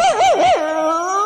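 A dog whimpers and yips in a short run of rising, wavering cries, then holds a longer whine, close and clear, in the middle of a live tropical dance-band performance.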